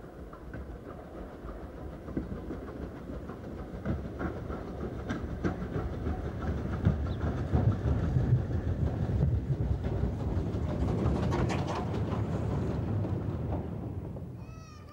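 A BR Standard Class 4 Mogul steam locomotive, built at Horwich in 1952 and running on the Mid-Hants Railway, makes a steady rolling rumble with clanking that builds to a louder passing peak before easing off.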